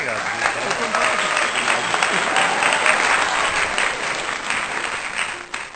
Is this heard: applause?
yes